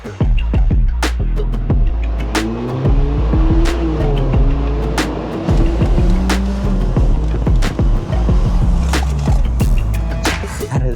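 A modified $1,000 Mercedes with fresh performance mods drives past loudly, its engine a steady rumble with shifting tones, covered by dense clicks and scrapes that suggest wind and rough handling on the mic.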